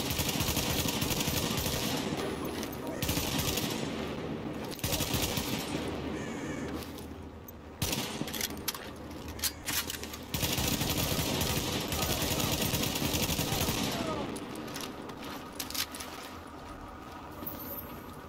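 Sustained bursts of gunfire from shooting enemies in the video game The Division, dense and loud with brief breaks between volleys, under intermittent talk.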